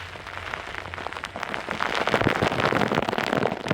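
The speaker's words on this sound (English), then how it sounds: "And running in the rain's fun anyway. It's absolutely going to start flogging down." Heavy rain beginning to pour down on a runner outdoors, a dense hiss of drops and scattered crackling splatters that thickens and grows louder partway through, with no talking.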